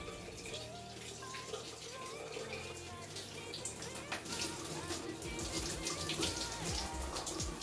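A shower runs steadily with a dense spray of water splashing, continuous and close, as bar soap is worked over skin during a relaxed morning shower.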